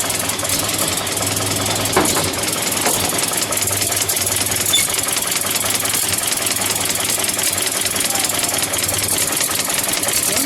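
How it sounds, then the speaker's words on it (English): A 1933 Buick Series 90 limousine engine idles steadily with a rapid mechanical ticking and rattling knock, loud and close, running evenly without change. "Let's open the engine compartment now while we've got it running still"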